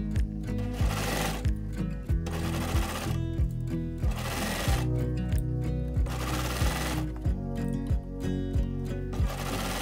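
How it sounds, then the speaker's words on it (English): A sewing machine stitches a knit crew sock, running in steady rapid bursts with brief pauses between, close and loud with no talking. "Try not to stretch the fabric out while sewing."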